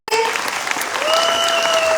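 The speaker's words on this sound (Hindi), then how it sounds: "एक बार जोरदार तालियां सबके लिए" A big audience at a Hindi motivational talk claps loudly and continuously, with a short tonal sound at the start and a long sustained tone running under the applause in the second half.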